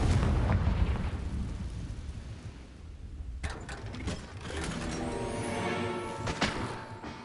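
A Confringo fire spell explosion in Hogwarts Legacy, a sustained roaring rumble of fire and debris that is joined midway by a sharper metallic crackle and blast layered over the game's background sound.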